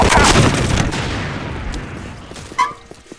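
Dual machine guns in the video game Postal 2 open up in a dense burst of loud gunfire that tails off, followed by a sharp single blast near the end.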